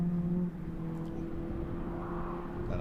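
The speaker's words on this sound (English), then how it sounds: "The other supercharged Mini coming along to take the second place. Great sound effects as it whines by us there." A supercharged Mini rallycross car at a British Rallycross round at Mondello Park whines past at moderate distance, a steady engine drone with a sustained tonal whine that holds throughout without clear peaks.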